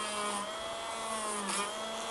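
A cordless grinder drills a hole, giving a steady high-pitched motor whine with a faint, even drone throughout.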